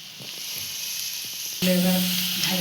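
Potatoes with salt and turmeric sizzle in a hot pan, a soft steady hiss that swells louder midway as more frying noise rises, heard close with no talking.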